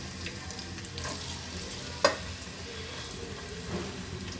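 Thinly sliced onions fry in a pan with cardamom and cloves for tomato rice, a steady close sizzle broken by soft stirring scrapes and one sharp clack of the utensil.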